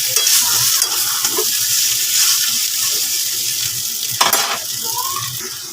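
Chow mein stir-fried in a pan at home, a loud continuous sizzle mixed with scraping and tossing of the noodles, with one sharp clatter near the end.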